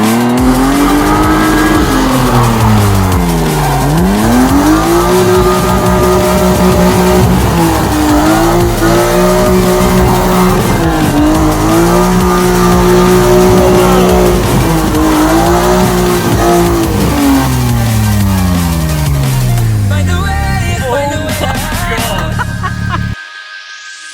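A BMW E36 323i drift car slides through a long drift, its engine revving hard in repeated rising and falling sweeps while the tyres squeal continuously, loud and close for over twenty seconds before the sound drops away.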